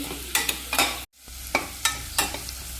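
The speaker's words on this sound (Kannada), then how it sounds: "ಕ್ಯಾರೆಟ್ ಜೊತೆ ಇದ್ರ ಜೊತೆ ಅಕ್ಕಿನೂ ಫ್ರೈ ಮಾಡ್ಕೊತೀನಿ" Carrots and rice fry in a hot pan as a spoon scrapes and stirs in quick repeated strokes over a steady sizzle, close and without talk.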